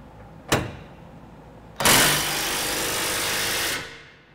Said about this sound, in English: We're going to be using our electric impact with a 1 1/8 inch drive.